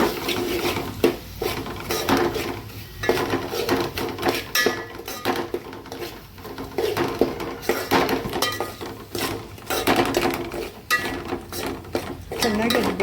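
A spatula scrapes and clinks steadily against a pan as a paste of chili, coriander, cumin and garlic, with curry leaves, fries for North Karnataka-style junaka. The stirring runs close and continuous, with no clear talk over it.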